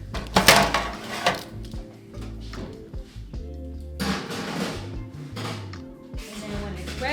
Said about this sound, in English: I'm gonna mix that up.